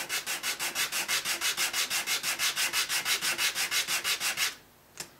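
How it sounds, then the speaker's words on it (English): A hex wrench is rubbed back and forth on 100 grit sandpaper over a flat surface, giving about twenty quick, even scratchy strokes close by, then a pause and a single small knock. "I put this is a piece of 100 grit sandpaper just on a flat"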